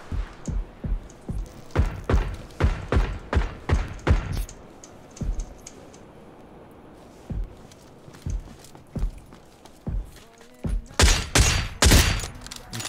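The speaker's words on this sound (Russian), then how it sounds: "не понимаю, откуда стреляют, откуда стреляют" Gunfire in the battle royale game PUBG, rapid bursts of sharp shots cracking in clusters with short pauses between volleys, fairly close and loud, with little talk.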